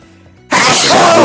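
One loud, sudden sneeze erupts after a short quiet pause and trails into a breathy, drawn-out tail.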